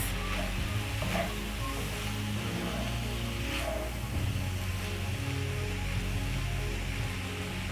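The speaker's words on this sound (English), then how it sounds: "let this cook until your tomatoes are well cooked" Minced beef and tomatoes sizzle steadily in a hot pan, a continuous close frying hiss with occasional soft stirring scrapes and no talking.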